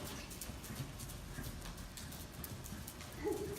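Horse hooves trotting in a riding arena give a faint, steady clip-clop rhythm against a soft background.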